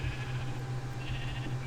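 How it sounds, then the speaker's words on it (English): A Minecraft Skyblock sheep farm gives a faint, steady sheep bleat that holds a low wavering pitch for over a second. "Got the sheep farm up and running. We have 1 sheep of every color that's currently available in the game."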